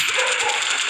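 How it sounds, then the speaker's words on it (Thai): Dog barking and yipping in the background of a mobile shooter game session, a brief cluster of short, close yelps. "แต่ขอโทษกับเสียงมาเห่าด้วยฮะ"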